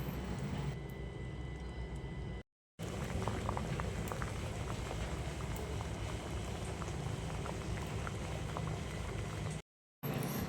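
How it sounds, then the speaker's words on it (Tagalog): A pot of coconut milk and mung bean stew boils steadily, a dense continuous bubbling and hiss that fills the whole stretch, broken only by two brief silent gaps. "Antayin lang natin hanggang sa kumulo."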